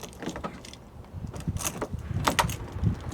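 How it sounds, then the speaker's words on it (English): A snapped key rattled and jiggled in a car door lock, close metallic scraping and clicking in irregular bursts over a steady background. "there is a particular technique to opening this door"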